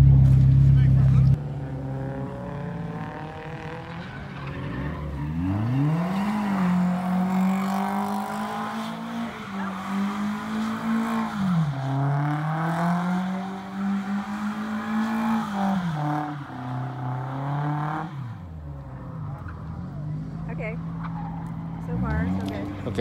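A Nissan 240SX spinning controlled donuts at a drift event, the engine droning and revving in repeated rising and falling sweeps, loud and close throughout with a brief pause near the end.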